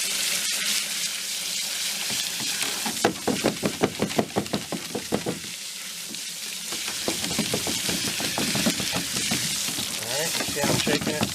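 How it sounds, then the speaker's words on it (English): Running water splashes over black oil sunflower roots and seeds being rinsed and shaken, a steady spatter with sharper bursts near and loud, under a person's voice talking. "Alright, so we're going to rinse the roots."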